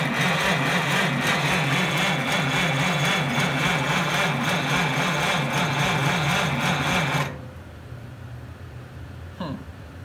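A Farmall Cub tractor engine cranks and chugs in a loud, steady, rhythmic run, then cuts off abruptly, leaving quieter background with a brief knock afterward.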